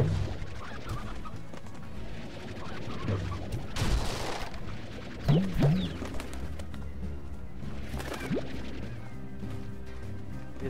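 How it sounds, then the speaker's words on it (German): Chickens in the video game Slime Rancher, with a handful of scattered clucks and squawky calls over a low game hum, broken by a brief burst of noise midway. "Ja, das sind Hühner, perfekt."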